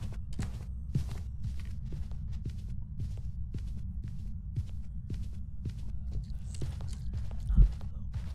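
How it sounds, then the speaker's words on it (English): Slow, widely spaced ghost footsteps in the horror game Phasmophobia, soft thuds with long pauses between them over a low steady hum, heard alone without talk. "There were long delays between the footsteps, and that's what I want you to listen out for."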